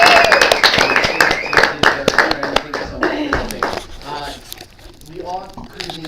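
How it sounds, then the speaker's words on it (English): An audience clapping at the end of a live fringe-festival show, dense applause close by that thins out over several seconds while people talk over it. "they're all gonna clap cheer just for you"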